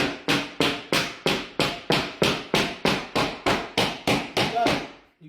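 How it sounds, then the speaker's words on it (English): A hammer taps a laminate flooring board into place in about fifteen sharp, evenly spaced blows. Each hit is close and loud and fades quickly before the next, with no talk in between. "As you hit it with this hammer, you will feel it slide down to where it needs to go."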